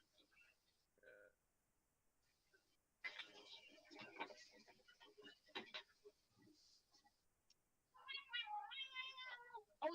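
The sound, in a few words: cat meowing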